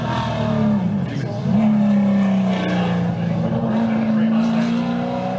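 A V8 Supercars support-category race car at The Bend in 2023 drones with a steady, rising and falling engine note throughout, with a commentator talking over it.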